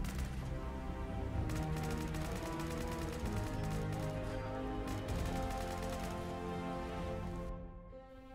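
A modded laser rifle in Fallout 4 fires in a fast, sustained burst like a machine gun, dense rapid shots running loud and unbroken before cutting off near the end.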